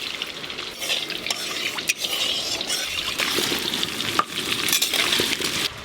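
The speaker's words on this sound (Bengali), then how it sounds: "তেল গরম হয়ে গেছে, এবার আলুগুলো দিয়ে দেবো।" Potatoes frying in hot oil, a dense steady sizzle and crackle with wet bubbling texture, close and fairly loud, continuing throughout without speech.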